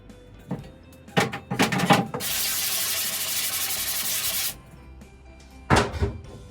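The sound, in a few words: scrub brush scrubbing a screen printing screen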